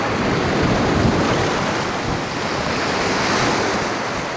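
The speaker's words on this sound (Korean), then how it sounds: "태풍은 더욱 거세졌지만 파도가 조간대 끝에서 잘게 부서져 내리는 건 낮의 모습과 큰 차이가 없다" Typhoon Bolaven drives waves that break and rattle across a pebble shore of small dark stones on Jeju's Aljakji coast, a dense, steady roar of surf and wind filling the whole stretch with no letup.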